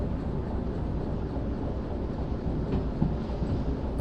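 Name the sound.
train wheels grinding on rails in video game Derail Valley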